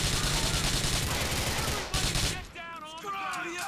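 Dense bursts of rapid gunfire from a firefight in Grand Theft Auto IV, loud and continuous for about two seconds before breaking off, with a voice talking over the quieter tail.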